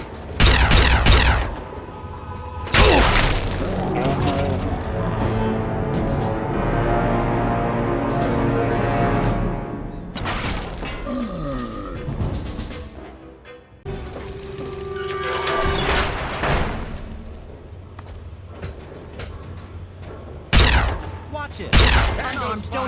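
Gunfire in the post-apocalyptic shooter Fallout 3, with sharp, loud shot bursts at the start and near the end, separated by stretches of game sound and clanking mechanisms, with people talking over parts of it.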